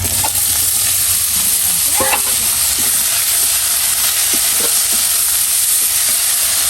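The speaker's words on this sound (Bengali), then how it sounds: "শাকভাজি নামিয়ে ফেলছি, একদমই সবুজ সবুজ কালার করে ভাজছি একবারে।" Radish greens frying in a pan with onion, chili and salt, giving a steady close sizzle and hiss with a few soft stirring clinks throughout.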